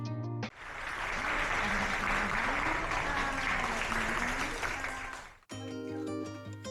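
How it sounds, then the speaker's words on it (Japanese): An audience claps at the end of a casual concert aboard the Sunflower Murasaki ferry on the Seto Inland Sea: a steady wash of applause with a faint tonal hum beneath it, which stops sharply before other sound follows. "拍手大喝采でエンジョイコンサートも無事に終了。"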